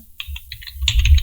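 Rapid keystrokes on a computer keyboard while entering data into Tally accounting software, a quick run of close, crisp clicks that grows denser and louder toward the end, with no voices.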